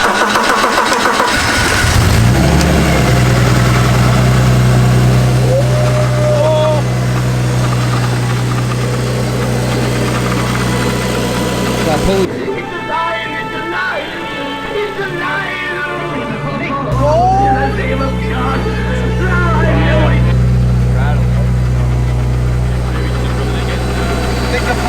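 A supercharged BMW engine cranks and fires, then settles into a loud, steady idle with a whine; people talk over it throughout.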